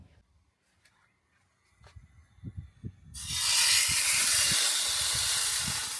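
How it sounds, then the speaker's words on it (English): Food on a camp stove at an outback campsite gives a loud, steady hiss of sizzling that swells up partway through and holds, following a few soft knocks and clatters of cookware. "sizzle there."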